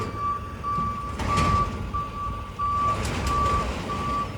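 A tow truck reverses with its backup alarm sounding, a regular series of steady beeps over the rumble of the engine, fairly close and without talk.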